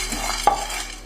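Chana dal frying slowly in a pan on low heat for curry leaf powder, a soft quiet crackle with a single stir-scrape midway, close and brief.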